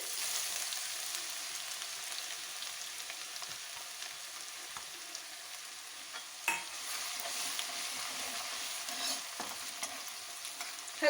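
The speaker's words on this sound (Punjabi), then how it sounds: "ਹੁਣ ਅਸੀਂ ਇਹਦੇ ਵਿੱਚ ਬਰੀਕ ਪੀਸ ਕੇ ਅਦਰਕ ਲਸਣ ਪਾ ਦਾਂਗੇ" Finely chopped ginger and garlic fry in hot oil for a dum aloo curry, giving a steady, close sizzle with faint stirring clicks and no voices.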